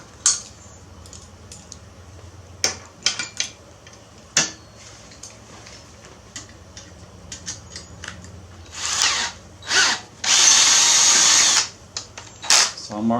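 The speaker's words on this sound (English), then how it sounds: "then I'll go back to the drill press" A drill press bores a hole in a workshop during a jumbo tricycle restoration, heard as short bursts and one longer sustained whine amid clicks and handling clatter.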